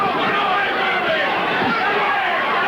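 Dense, roaring boxing crowd at a pro fight between Dennis Andries and Bobby Czyz, a steady wall of loud cheering and chatter sustained throughout with no break.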